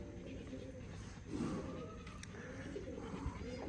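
A pet pigeon hen that has hatched chicks coos softly on a farm with buffalo, a low murmuring call heard faintly under steady background noise, with no voices.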